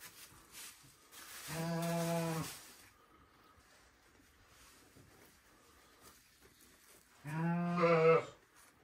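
A ewe bleating while giving birth, two long, loud, drawn-out bleats close by, separated by several seconds of quiet.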